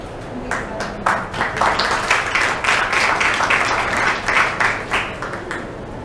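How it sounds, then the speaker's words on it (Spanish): Audience clapping at a book fair talk, a dense patter of many hands that builds after the first half-second, holds steady and loud, then thins slightly toward the end, with some voices mixed in. "Sean todos bienvenidos, bienvenidas, con un aplauso."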